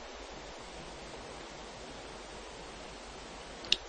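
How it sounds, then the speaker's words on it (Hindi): A waterfall below at night, heard as a steady, even rushing wash with no voices and a single tiny click near the end. "नीचे झरने का शोर सुनाई पड़ेगा"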